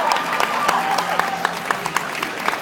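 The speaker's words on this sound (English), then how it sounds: "Everyone give a big round of applause to our favorite set of characters." Audience at a cosplay craftsmanship competition applauding, a dense, steady round of clapping from a large crowd with scattered sharper claps and faint cheering, fairly close and sustained throughout.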